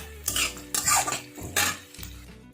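Onions frying briefly in a pan with metal utensil stirring and scraping in repeated bursts, clattering against the cookware over a low background hum; no one speaks.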